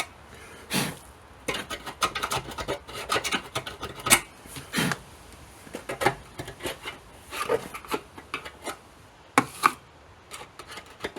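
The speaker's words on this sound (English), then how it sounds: "I'll just give it a bit of a scrape." Steel scraper working road oil and grease undercoating off the metal of a 1999 Dodge Ram, a run of short rasping strokes in an uneven rhythm, close and fairly quiet, with no talking.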